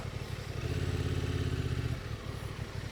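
A Honda Transalp 750 motorcycle ridden off-road in sand, its engine droning steadily and loudly close by, rising briefly as it labours, then easing off.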